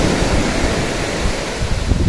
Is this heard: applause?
no